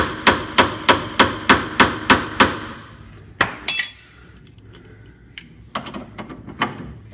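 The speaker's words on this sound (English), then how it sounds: "If it gets really hard like it is right now, you just want to get hammering." Eight hard hammer blows ring out in a steady rhythm on the pitman arm of a Dodge Ram's power steering gear, close and loud, followed by a metallic clank and some lighter tool knocks.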